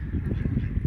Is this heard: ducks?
yes